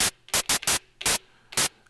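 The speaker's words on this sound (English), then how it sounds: "turn down the oscillator volume and turn up the noise" Five bursts of broad hissing white noise from the noise source of an Elektron Analog Four synthesizer, each lasting about a tenth of a second, separated by quiet gaps.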